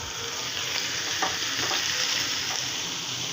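Malabar spinach (pui shak) bhaji fries in a pan with a steady, loud sizzle and crackle that holds throughout, alongside a few brief stirring scrapes and no voices.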